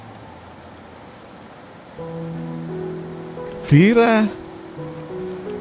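Steady rain falls as background ambience in an Indonesian audio story, with soft music tones layered over it and a voice briefly speaking near the middle.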